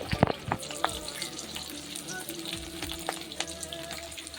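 Onion, dried chili and chopped garlic fry in a pan with a soft, steady sizzle. Quiet utensil clinks and scrapes break in now and then, mostly near the start.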